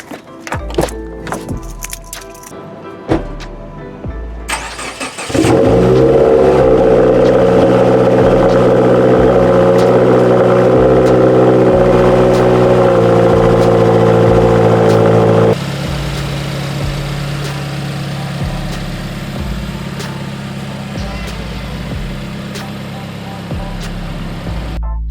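A 2017 Subaru Forester XT engine cranks and catches around the five-second mark after some light clunks, then holds a loud steady idle that drops to a quieter, settled idle partway through.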